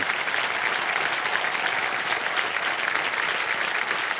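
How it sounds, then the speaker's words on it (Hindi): A studio audience at the KBC quiz show breaks into dense, sustained applause, steady and loud from start to finish with no speech over it. "जोरदार तालियां।"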